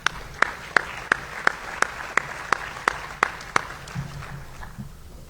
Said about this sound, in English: So let's all give Ross a big round of applause.